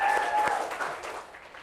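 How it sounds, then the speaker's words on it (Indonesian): Brief burst of audience applause at a televised dangdut dance contest, moderately loud clapping with a couple of whistle-like tones early on, fading over under two seconds. "Iya, tepuk tangan"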